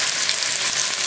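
Marinated chicken pieces frying in oil, a brief burst of bright, steady crackling sizzle heard up close without any speech.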